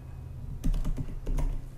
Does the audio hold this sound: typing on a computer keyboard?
yes